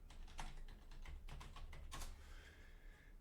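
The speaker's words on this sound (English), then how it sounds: "We'll type bitwarden.com" Keys clatter on a computer keyboard as a web address is typed, a quick run of distinct clicks at close range with a brief pause partway, no voices.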